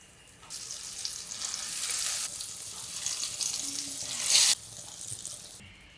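Chicken liver pieces dredged in flour sizzle in hot oil in a frying pan, a steady crackling hiss that swells as pieces are added, with a louder burst near the end before settling.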